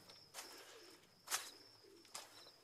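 Pigeons coo softly with a few faint, breathy calls spaced about a second apart against quiet background hiss.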